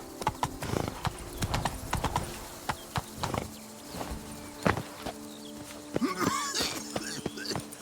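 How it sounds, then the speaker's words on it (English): Hoofbeats of the horse Roach trotting in The Witcher 3: Wild Hunt, Blood and Wine, a steady clip-clop of hooves close by, with a brief whinny near the end and occasional game sounds around it. "Whoa there, Roach."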